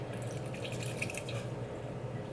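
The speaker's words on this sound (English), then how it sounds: "I add a little bit of coconut water" Coconut water from a can pours into a blender as a steady, faint, close splashing trickle, with no talking.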